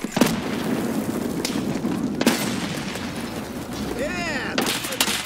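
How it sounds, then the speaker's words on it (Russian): A grenade goes off in the Escape from Tarkov shooter game amid heavy gunfire, with sharp booming blasts at the start, middle and end over a dense crackling battle din. "Боты кидают нам гранату!"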